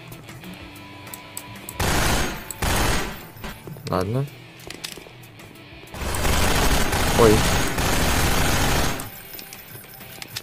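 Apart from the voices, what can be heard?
loud gunshots in video game Hunt Down The Freeman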